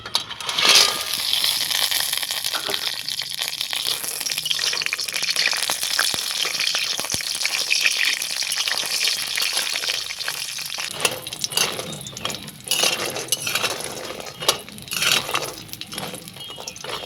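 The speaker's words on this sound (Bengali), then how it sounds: "গ্যাসের জালটা মিডিয়ামে করে বড়িগুলোকে ভেজে নেব।" Lentil dumplings (bori) sizzle in hot mustard oil in a wok over a medium flame, a steady close crackle with sharper pops and spatters that stay busy throughout.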